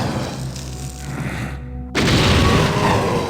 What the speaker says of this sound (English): Come towards the sound of the explosions